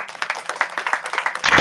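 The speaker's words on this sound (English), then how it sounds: "Give that a round of applause." An audience claps briefly in quick, close rhythmic bursts, then the sound swells into a fuller burst at the end.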